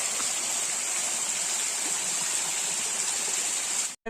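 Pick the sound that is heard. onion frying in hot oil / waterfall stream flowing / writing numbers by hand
waterfall stream flowing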